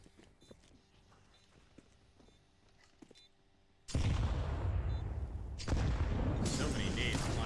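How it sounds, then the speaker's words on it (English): Grenades burst in a Counter-Strike match: faint ticking game noise gives way to a sudden loud blast, and a second explosion rolls in soon after. Both rumble and hiss, with casters' voices faintly present. "So many nades flying over"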